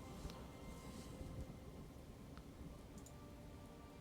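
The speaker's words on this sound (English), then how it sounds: "I wish this thunder would stop." Heavy rain pours in a dense, unbroken wash with low rumbling of thunder underneath, faint and distant-sounding with no voices.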